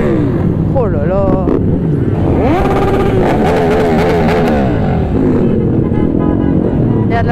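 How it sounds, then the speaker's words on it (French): Several motorcycles ride past loudly and close during a Santa Claus charity ride, engines revving and swelling one after another, with people talking and cheering over the noise. "Il y a de la sacrée moto là."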